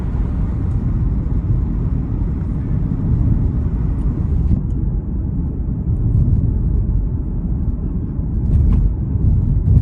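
A five-cylinder Audi TT RS engine drones steadily from inside the car on a test drive, a continuous low rumble with road and wind noise blended in and no talk over it.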